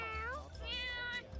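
A single drawn-out cat meow from the Warhammer 40K video game, loud and close with a rising then falling tone, followed by a second shorter cry, alone over a low hum.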